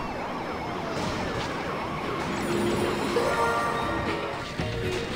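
Wailing sirens rise and fall continuously, several overlapping tones sounding at moderate distance with a low rumble beneath, in the racing video game Beach Buggy Racing 2.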